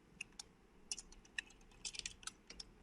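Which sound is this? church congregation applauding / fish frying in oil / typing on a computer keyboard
typing on a computer keyboard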